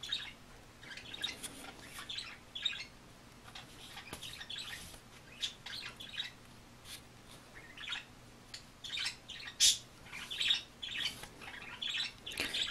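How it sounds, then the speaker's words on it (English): Pet birds named Brindle and Chloe chirp and squawk in the background, a steady scatter of short, bright tweets and calls from nearby at moderate volume, with no talking. "Brindle and Chloe are chirping away in the background."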